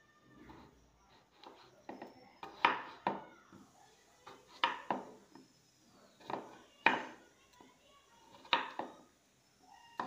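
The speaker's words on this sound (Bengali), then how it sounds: "এরকমভাবে টুকরো করে কেটে নিতে হবে।" Potatoes being cut into pieces with a knife on a board for a dhaba-style potato curry, a series of sharp, close knocks spaced irregularly, some louder than others, with quiet gaps between.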